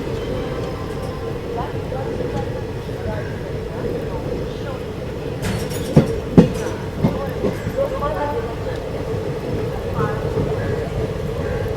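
Gorakhpur–Mumbai LTT Express train running past a pantry car coach, a steady low rumble with a few sharp clanks midway, heard from on board or close by.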